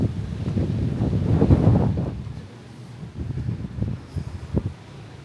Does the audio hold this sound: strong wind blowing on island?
yes